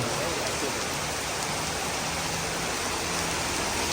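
Heavy rain pours steadily and loudly, a dense continuous hiss of drops with no break.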